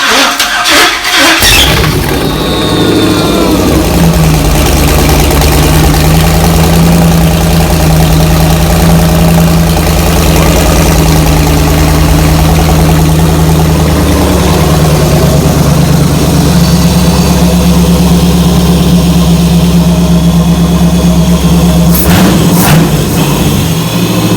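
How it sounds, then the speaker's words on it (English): An LS V8 with FiTech fuel injection in a 1946 Chevy truck cranks and fires, then holds a loud, steady, lumpy idle for about twenty seconds before shutting off, close up, with brief voices near the start and end. "The engine stopped rattling. Really, it was smooth right up."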